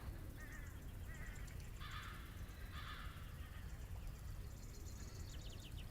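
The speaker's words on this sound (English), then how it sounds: "Sounds like a crow." Crow-like caws in short repeated bursts, moderately loud over a steady low rumble of ambience, heard during a tabletop fantasy game session.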